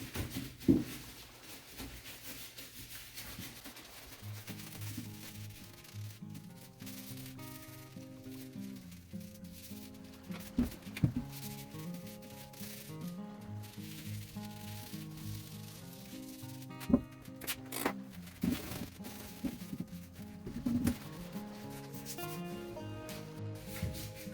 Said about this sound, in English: Now we'll give it a good wipe down.